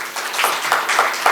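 An audience at an education conference panel applauds a guest, with a close, loud burst of many hands clapping in uneven pulses over a bit more than a second.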